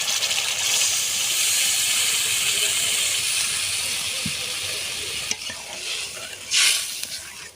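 Spices and yogurt are stirred and sautéed in a pan for doi begun, giving a loud, steady sizzle and hiss with scraping strokes and a brief louder surge near the end.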